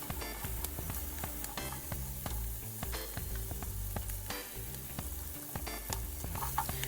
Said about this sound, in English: I'm going to start by sautéing the green beans and getting some color on them